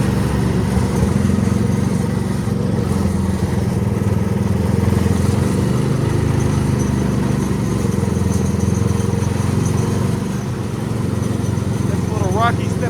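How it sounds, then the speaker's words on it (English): A 1970s Coot off-road ATV engine drones steadily and loudly throughout, a rough mid-pitched running note under continuous speech. "The Coot is a lot of fun, but it is quite a slow machine."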